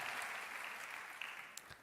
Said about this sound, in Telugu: గట్టిగా చప్పట్లు కొట్టి దేవుని మహిమపరచండి